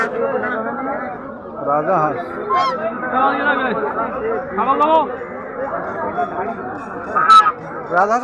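Ducks and geese honk and quack repeatedly amid the noisy Bagjola market, with people chattering and bargaining close by.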